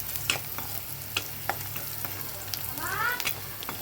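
Onion masala and strong chili powder fry in a pan, giving a faint, steady sizzle broken by soft clicks and scrapes as the mixture is stirred.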